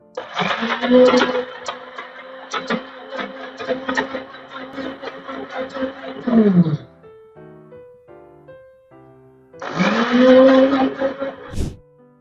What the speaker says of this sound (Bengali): ব্লেন্ড করে নিই